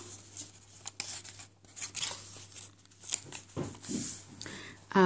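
Parchment paper being handled while assembling a Halloween junk journal, soft rustling, rubbing and crinkling touches scattered through the clip, close and quiet.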